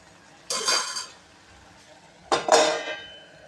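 A lid goes onto a cooking pot with two separate metallic clanks, each a bright clatter that rings briefly and fades, close by in a quiet kitchen.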